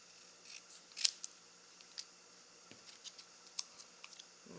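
Paper sentiment stamped in Misty Moonlight ink being trimmed with scissors, leaving a white edge: a few sharp, quiet snips and clicks close by, spaced irregularly over a faint background hiss.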